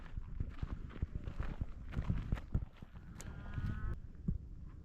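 Horses shuffle and stamp with scattered hoof clops as riders saddle up for a cattle roundup on a ranch, with cattle lowing nearby, a busy outdoor mix of irregular footsteps and animal sounds at moderate distance.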